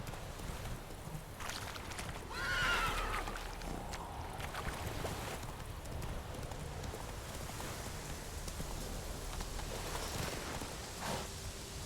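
Geralt's horse Roach in The Witcher 3 gallops steadily as a muffled run of hoofbeats under wind and ambient noise, with a brief whinny-like cry early on and no speech.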